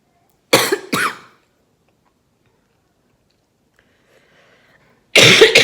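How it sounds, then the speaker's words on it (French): A person with coronavirus coughs hard in two quick harsh bursts close to the microphone, then falls silent for several seconds before another loud cough breaks out at the end. "Ça fait 10 minutes que je tousse en continu."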